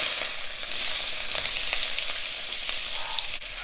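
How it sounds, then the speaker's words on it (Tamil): Mustard seeds and urad dal crackle in hot oil with chopped onion, a steady close sizzle of frying with scattered sharp pops throughout, no voices. "கடுகு உளுந்தம்பருப்பு நல்லா பொரிஞ்சதுக்கப்புறமா கட் பண்ண ஒரு வெங்காயம்"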